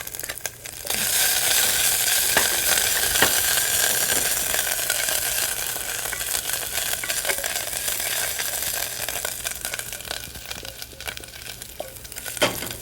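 Fresh ginger, chilies and urad dal frying in hot oil for a South Indian rice dish, with a loud, continuous sizzle throughout and occasional stirring clicks.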